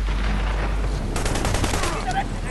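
Rapid gunfire in the Army of Two The Devil's Cartel video game, a dense burst of automatic shots under a voice speaking, close and loud.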